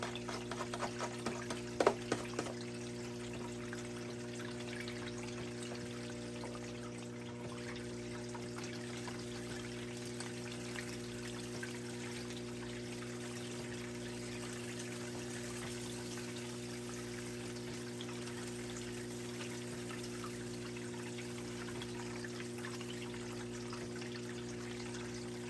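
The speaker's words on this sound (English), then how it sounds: "The water just takes it and runs it down that sluice really quick on this one." Water runs through a gold paydirt sluice in a steady, quiet stream, with a few brief splashy trickles near the start before the flow settles into an even wash.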